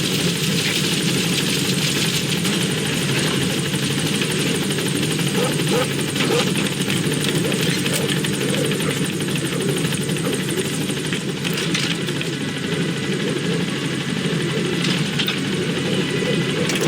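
A B-Quad support helicopter in Metal Gear Solid V sits at a landing zone, its rotor and engine holding a steady, loud droning whir throughout while a voice speaks over the noise.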